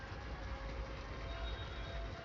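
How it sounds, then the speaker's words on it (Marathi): A train passes by outdoors in the Malvan area, a steady broadband rumble of rolling wagons holding at an even, moderate level throughout with no talk. "ट्रेन जाता ट्रेन जाता ट्रेन"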